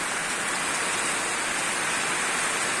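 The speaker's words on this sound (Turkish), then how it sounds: "Hava kapandı, yağmur direkt geldi" Steady rain pours down in a sudden shower without thunder, a dense even hiss filling the air without a break.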